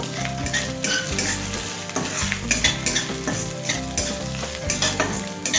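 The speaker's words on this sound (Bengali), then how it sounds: "মৌরিটা হয়ে গেলে এর মধ্যে আমি নারকেল কোড়া অ্যাড করে দেবো প্রায় 2 টেবিল স্পুনের মতো। একটু নাড়াচাড়া করে নেব।" Grated coconut and fennel seeds frying in a pan, a busy, close sizzle broken by repeated scrapes and knocks of a spoon as the mixture is stirred, with no voices over it.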